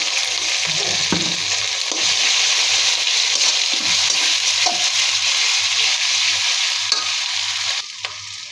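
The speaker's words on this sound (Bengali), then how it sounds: "আদা রসুনটা ভালো করে ভেজে নিব" Ginger-garlic paste with spices fries over fried onions for a layer-chicken bhuna, a steady close sizzle with repeated scraping and clinking stirs throughout and no speech.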